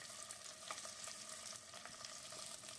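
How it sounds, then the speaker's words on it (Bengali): Cauliflower florets fry in oil left over from frying paneer, giving a soft, continuous crackling sizzle with light popping throughout. The sound is faint and steady, with no voices. "এবার আমি ফুলকপিগুলো দিয়ে দিলাম ভাজতে ওই তেলটার মধ্যেই"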